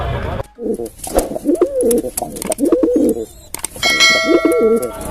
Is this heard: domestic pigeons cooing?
yes